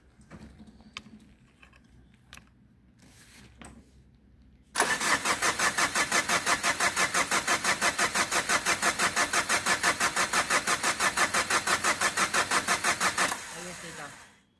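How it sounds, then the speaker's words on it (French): A Peugeot 405 TD diesel engine is cranked without firing, the starter churning in a fast, even, loud rhythm for about nine seconds after a few faint clicks and noises. "On fait tourner sans que ça démarre, c'est histoire que la pompe à huile s'amorce."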